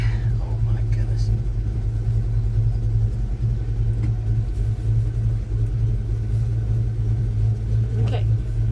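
A 1984 Chevy C10 pickup truck engine runs during a short drive, a steady low rumble filling the cabin throughout, with a person speaking quietly over it.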